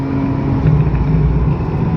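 Oncoming cars passing on a hillclimb road near construction workers, a brief steady engine rumble and tire drone, close and moderately loud with no talk.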